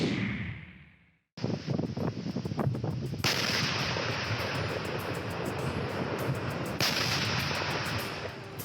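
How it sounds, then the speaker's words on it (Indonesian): Army munitions are destroyed at an ammunition depot: after a brief silence a sudden loud blast erupts, followed by a dense crackle of rapid secondary explosions and a sustained roaring rumble, heard at a distance. "Kepulan asap hitam disertai ledakan amunisi terjadi saat jajaran Gudang Pusat Amunisi"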